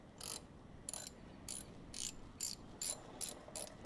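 A ratchet wrench backs out loose bolts on a Charger, its crisp clicking pawl heard close in a quick, steady series of about eight bursts with no talk.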